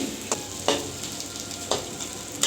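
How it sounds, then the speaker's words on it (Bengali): Noodles frying in a pan, with a continuous sizzle broken by a few sharp stirring scrapes at irregular intervals, up close with no talking. "2 থেকে 3 মিনিট এরকম ভাজলে কেউ বেশি খায়"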